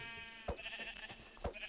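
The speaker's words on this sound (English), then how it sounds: "I'm sorry, little sheep, but you have to go." Sheep in the video game Minecraft bleat in two or three short, nasal calls spaced about a second apart, fairly quiet over a steady faint background hum.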